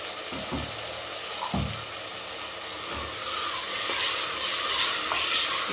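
Mint, coriander and ginger-garlic paste sautéing in oil, with several spoon scrapes and clanks in the pan early on, then a louder steady sizzle building toward the end.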